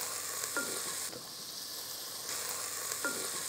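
Onions sizzle in hot oil with masala in a pan while military-hotel-style mutton chops are being made, a steady close frying hiss broken by a couple of short stirring scrapes and a brief quieter dip.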